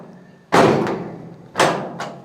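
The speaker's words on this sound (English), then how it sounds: "a door that opens and then it locks." Door on a 1954 Ford F600 truck shutting twice, each a loud near thud followed by a quick latching click.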